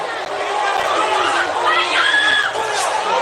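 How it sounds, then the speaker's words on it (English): Boxing arena crowd during a Magsayo versus Ceja fight, a dense roar of chatter and rising excited shouts right after a knockdown, loud and continuous with swelling cheers toward the end. "Crowd getting excited."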